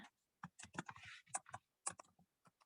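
Someone types a company name on a computer keyboard, a brief burst of close, crisp key clicks in an uneven rhythm with short pauses between strokes.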